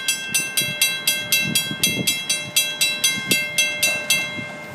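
An FEC freight train rolls past a level crossing close by, its wheels clacking over rail joints in a steady, evenly spaced rhythm with a faint steady tone underneath.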